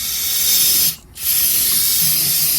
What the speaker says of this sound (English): just gotta hit that surface with the brake cleaner